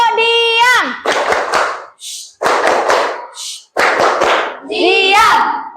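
A group of children in a classroom clap in a quick rhythmic pattern, alternating bursts of claps with sung or chanted voices, loud and close.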